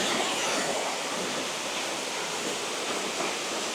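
Rushing water at Kanto Lampo Waterfall in Bali, a steady, dense, hissing roar that stays loud and unchanging throughout, with no voices over it.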